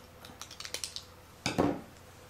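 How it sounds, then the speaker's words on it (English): Several quick scissor snips in a row, followed by a louder rustling cut through paper, close and fairly quiet with no speech. "and then take my scissors"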